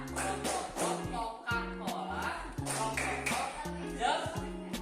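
An elementary school class claps along in rhythm to a teacher-led Coca-Cola clapping chant in a classroom, steady patterned claps over a sustained background of voices and tones.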